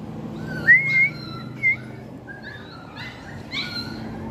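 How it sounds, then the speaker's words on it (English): Puppies let out a few thin, high whimpers and whiny squeaks outdoors, short and scattered over a low steady hum. "We have a lot of puppies here."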